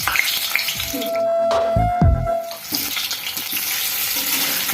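Peeled boiled eggs dropped one by one into hot oil for egg curry, sizzling and spattering loudly up close, with a burst of crackling as each egg hits the pan.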